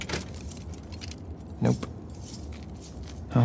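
Keys jangle in short metallic bursts inside the video game The Last of Us 2, two brief clusters over a steady low background rumble with no talking.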